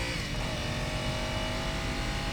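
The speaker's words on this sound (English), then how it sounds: "Smoke filled the air as the bike sped away." A motorcycle speeds away in a getaway with a steady, loud engine roar that holds a constant drone from start to finish, nearby and unbroken.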